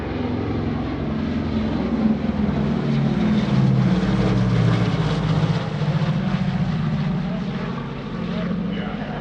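A B-29 Superfortress, the four-engine World War II propeller bomber, drones past at an air show demonstration, its deep layered engine roar swelling steadily toward the middle and easing off across the pass.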